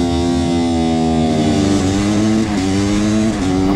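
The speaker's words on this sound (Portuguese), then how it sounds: "é uma moto com barulho de helicóptero" A motorcycle engine with a helicopter-like sound throbs loudly and continuously up close, a deep rhythmic drone that rises slightly in pitch as it revs.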